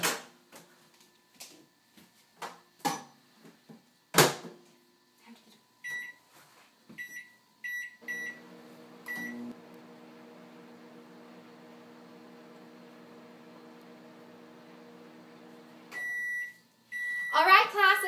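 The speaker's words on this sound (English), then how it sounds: "We're going to put this ice into the microwave." A microwave oven melting ice runs with a steady low mechanical hum for several seconds, preceded by scattered clicks and button beeps, then ends with a short series of beeps.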